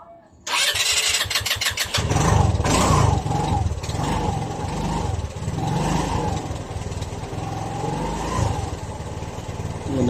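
A Rusi RFI 175 motorcycle with an error code p0122 fault cranks and starts abruptly, then settles into a loud, steady close-up idle with slight fluctuations.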